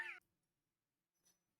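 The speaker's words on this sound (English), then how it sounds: "That's my cat." A cat lets out one short, clear meow at close range, followed by near silence and a faint brief rustle.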